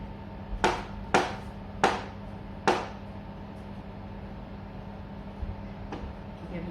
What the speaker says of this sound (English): So now the mushrooms, these have been washed, and I'm just going to slice these thinly again.